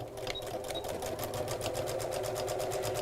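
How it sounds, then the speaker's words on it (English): A sewing machine stitching around the edge of a fabric bag, with a steady, rapid mechanical whirr close by that runs throughout without talk. "I'm literally going to sew all the way around the edge."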